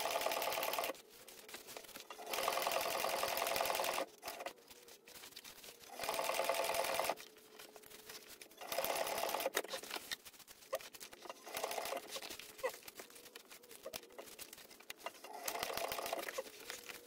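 A sewing machine stitches a leather laptop bag in repeated bursts of fast, even stitching separated by short pauses, close and fairly quiet, with no talking.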